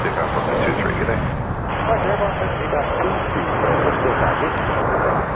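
Airliner taking off at Toronto Pearson airport, a steady loud roar of jet engines filling the clip with no clear rise or fade, heard at a distance with faint radio chatter under it.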